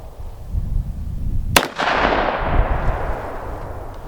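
A single loud, close .45 Colt gunshot fired over a chronograph, a sharp crack followed by a long, rolling outdoor echo that slowly fades against steady background noise.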